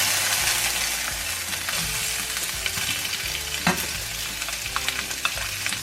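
Food frying in oil over low heat in a pan, with a steady, close sizzle and crackle and occasional soft stirring taps throughout.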